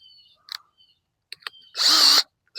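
A power drill bores a hole in a five gallon plastic bucket, running in short bursts with a longer loud whir near the end, close by and with no talk over it.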